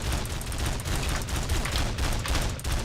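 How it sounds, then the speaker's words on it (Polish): Rapid gunfire rattles in the stealth game Of Guards And Thieves, a loud, continuous burst of shots with a few distinct cracks over a rumbling low end, no voices. "tu widzę, że ktoś do mnie strzela"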